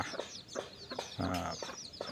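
Short clucking calls from a junglefowl hen, several bursts in quick succession, fairly close, with a louder, longer call near the middle.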